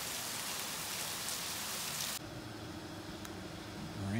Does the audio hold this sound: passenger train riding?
no